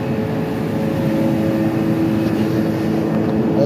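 Air compressor running at a 500 kVA electrical substation, a loud steady mechanical drone with a constant hum, unbroken and close, with no voices.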